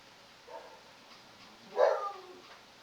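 A dog outdoors barks to be let back inside, giving a faint yip early on and then one louder bark or whine-like burst near the end, heard from some distance against quiet background.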